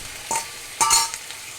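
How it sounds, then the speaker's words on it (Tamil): Tomatoes sautéing in a pan for sambar, two quick scraping stir strokes with a light sizzle over a low background, close and brief. "தக்காளி சேர்த்து நல்லா வேக விடணும்"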